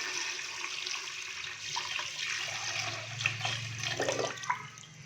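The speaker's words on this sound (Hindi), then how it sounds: "तो 2 लीटर के करीब मैं इसके अंदर पानी डालूंगा।" About two liters of water pour into a pot of mutton for yakhni, a steady rushing splash that runs the whole time at even loudness.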